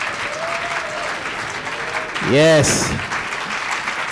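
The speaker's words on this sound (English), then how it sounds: "we are going to give a huge round of applause, feet stomping" An audience at a live poetry recitation competition claps and stomps in a dense, continuous roar of applause. A voice briefly calls out partway through, and the clapping swells for a moment before settling.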